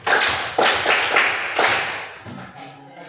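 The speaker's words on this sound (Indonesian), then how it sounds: "kita beri aplaus untuk kelompok 4" Applause for a student group in an Indonesian classroom, a burst of clapping from many hands that surges in waves and fades out over about three seconds, with no talk over it.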